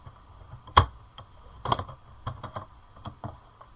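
A paper trimmer works through cardstock with a series of sharp, close clicks and slicing snaps, irregularly spaced and quiet between strikes.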